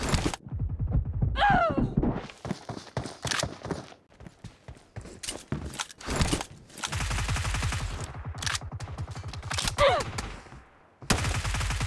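A UMP fires in a shooter video game, rapid rattling bursts of close automatic gunfire repeating across the stretch, broken by short pauses and a few whizzing sounds.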